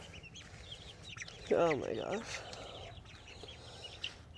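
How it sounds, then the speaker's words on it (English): Backyard hens in Wyoming cluck in a burst of arched, chattering calls close by, with a person exclaiming briefly over an outdoor background. "Just out here checking on the chickens"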